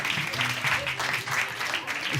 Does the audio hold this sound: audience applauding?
yes